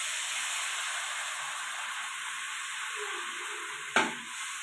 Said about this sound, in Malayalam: നന്നായി മൂത്ത് വരുമ്പോൾ പുളിവെള്ളം ഒഴിക്കുക.